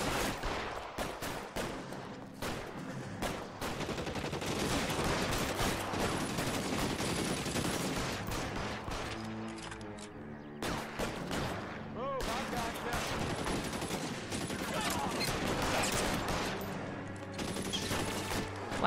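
Repeated gunfire from a shootout in the video game L.A. Noire, clusters of loud shots and bursts across the span, with brief pauses and a voice talking at times.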